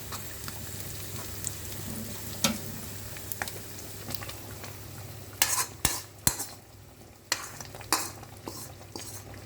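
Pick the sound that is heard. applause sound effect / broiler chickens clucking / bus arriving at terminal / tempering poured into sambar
tempering poured into sambar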